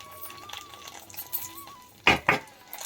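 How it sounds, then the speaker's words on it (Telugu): Sweet pongal with ghee being stirred in a pot, with two sharp spoon knocks against the vessel standing out near the end and softer scraping before, over a faint steady tone and quiet room noise. "ఇవి మనం అంతటా కలిపేసుకోవాలి మంచిగా. నెయ్యి కూడా కొంచెం అంతటా వచ్చేటట్టుగా ఇలా చేసుకోవాలి."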